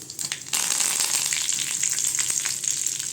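Curry leaves and fennel seeds hit hot oil in a pan, bursting into a loud, steady crackling sizzle after a brief quieter start, with no one talking.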